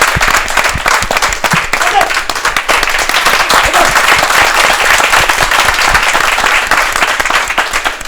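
A live audience at a Saturday gathering breaks into loud, sustained applause, many hands clapping densely and close for the whole stretch, with a voice talking faintly beneath.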